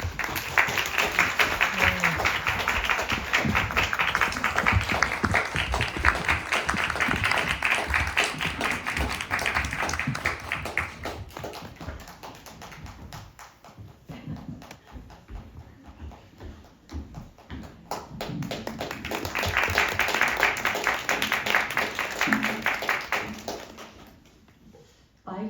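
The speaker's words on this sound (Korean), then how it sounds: "그 어느 때보다 큰 박수로 네 분의 게스트를 환영해 주시기 바랍니다" Enthusiastic audience applause welcoming four guests at a Korean film screening event, a long sustained burst of dense clapping that fades under a speaking host before swelling again loudly, then tapering off.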